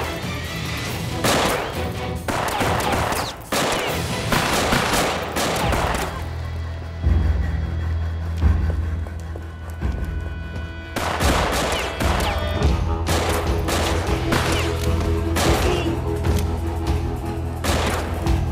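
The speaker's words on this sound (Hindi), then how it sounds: "तुम सब गोलियां बरसाओ उन पे।" Rapid bursts of gunfire rattle loudly and continuously, with heavier booms and a low rumble between volleys.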